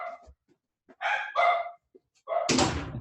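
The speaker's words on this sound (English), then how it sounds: "My dogs." Several dogs bark indoors in short sharp bursts, a few quick yaps then louder barks close by, ending in a heavy thud or slam.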